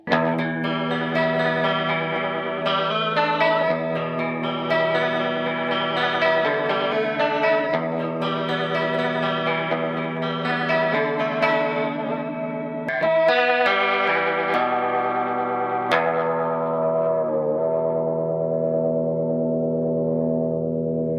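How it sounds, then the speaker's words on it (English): Electric guitar chords through an ADA MP1 preamp shimmer with a warbling, wavering chorus that acts like vibrato, continuous and full before settling into a fading final chord. "It's dialed in so that they use the chorus as a vibrato."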